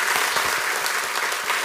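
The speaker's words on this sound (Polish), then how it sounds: "Jeszcze raz wielkie brawa." Steady, dense applause from a TV game show studio audience, loud and continuous with no talking over it.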